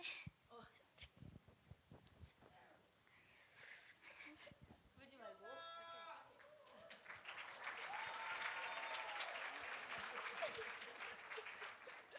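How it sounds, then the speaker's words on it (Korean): Audience applause at a church evangelism school event builds into sustained, dense clapping, starting scattered under talk and laughter, then swelling into a steady wash, fairly faint overall. "박수 한번"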